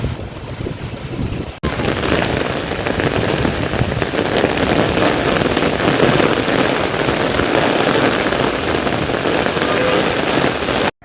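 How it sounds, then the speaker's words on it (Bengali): Heavy rain pouring onto a street, a dense loud continuous hiss and patter that starts abruptly after a brief quieter moment and holds steady, with no voices. "ভালোই বৃষ্টি পড়ছে।"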